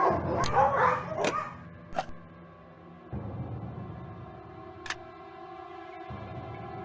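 Several sharp dog barks and a growling snarl up front from vicious dogs in the video game Nancy Drew: Ghost Dogs of Moon Lake, then sparse single barks over a sustained droning tone.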